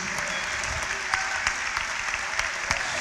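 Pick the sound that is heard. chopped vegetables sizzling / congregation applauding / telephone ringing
congregation applauding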